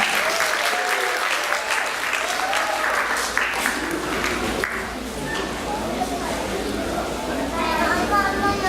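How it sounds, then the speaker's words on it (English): Audience applause fills a hall at an evening church event presentation in Detroit, a steady dense clapping that runs the whole time with voices and chatter mixed in underneath. "So let's give them a round of applause for their announcement."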